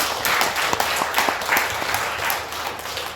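Audience applause at a monthly meeting of a civic volunteer group in Daegu-Gyeongbuk, greeting newly elected members; dense, steady clapping from many hands fills the whole stretch at moderate loudness with no talk over it.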